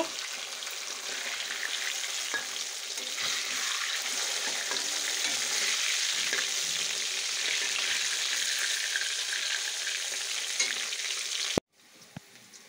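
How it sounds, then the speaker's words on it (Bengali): Fish fries in a pan with a loud, steady hiss and crackle of hot oil that holds without a break for most of the time, then cuts off abruptly near the end. "মাছ ভাজা বসিয়ে দিয়েছি"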